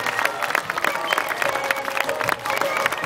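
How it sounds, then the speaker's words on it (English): Audience applause with some cheering for a performer named Mike after a gypsy rope act, a dense, steady patter of many hands held for about three seconds. "give us a big round of applause for Mike, ladies and gentlemen"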